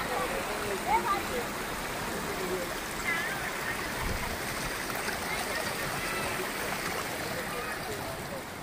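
A small stream runs continuously down a hillside at Mumbra hill, a steady broadband rush of flowing water filling the whole stretch at even, moderate loudness with no clear talk over it.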